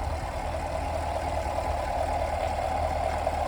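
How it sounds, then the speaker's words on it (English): Steady, rumbling idle of a 2023 Chevy Camaro 1SS convertible's pushrod V8, close and loud, holding an even, continuous drone with no revving and no voices. "Very glad GM stuck to the pushrod engine design, because you know what, the sound that you get from a pushrod,"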